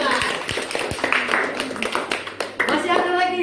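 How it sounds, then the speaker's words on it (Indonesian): Students in a classroom clap for a classmate named Sela, scattered sharp claps close by, spread irregularly over a few seconds with voices talking through them. "tepuk tangan untuk Sela"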